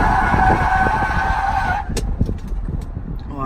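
A 3rd-generation Toyota 4Runner with a repaired emergency brake bell crank rolls out on a test drive, loud and close with a steady engine and tire roar, then a burst of rattling, clunking knocks.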